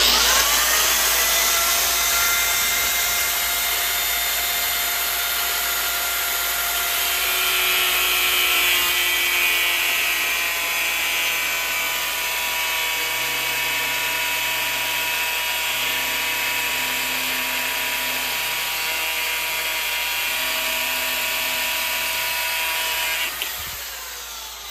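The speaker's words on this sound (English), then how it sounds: "put the file in the vise and trim it" A power tool grinds steadily through a metal file clamped in a vise, a loud continuous high whine that shifts pitch slightly as it cuts, then stops abruptly at the end.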